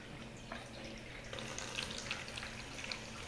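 Water trickles and pours steadily into the tank of an Aresmix DL1500 diode laser machine, a faint, quiet, continuous splashing flow.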